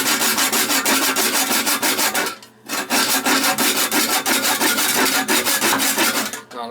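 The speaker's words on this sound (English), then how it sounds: "The thing that works pretty good is this thing. PVC cutter." A PVC cutter saws under a toilet tank with fast, rhythmic rasping strokes, loud and close, pausing briefly partway through before resuming.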